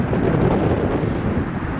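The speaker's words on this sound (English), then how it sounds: "It's a little windy out here, so if you're getting a little breeze across the camera, so be it" Gusty wind buffets the microphone with low, rumbling rushes of noise that rise and fall unevenly.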